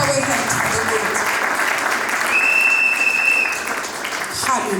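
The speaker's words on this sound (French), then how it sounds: "Can we clap our hands to the Lord?" Congregation at a Congolese wedding clapping and applauding, a dense, loud, sustained wash of hands with cheering voices mixed in throughout.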